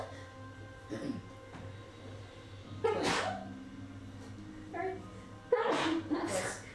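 A person sneezes indoors during a tabletop role-playing session, with a couple of sharp sneeze bursts standing out among sparse talk and background noise.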